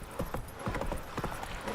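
Hooves of Roach, a horse in the video game The Witcher 3, beat in a quick, steady clip-clop rhythm across the whole moment, fairly close and clear over a soft background bed.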